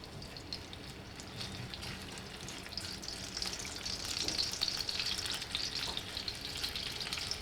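Pancetta fries in olive oil in a pan, giving a soft, steady crackling sizzle that swells slightly in the middle and stays faint throughout.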